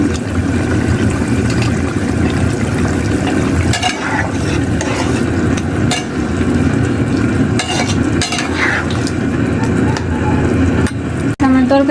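Prawns go into a simmering pumpkin curry and are stirred in the pan, with a steady loud sizzle and wet scraping and stirring noises throughout, plus a few sharper clatters of the spoon near the end.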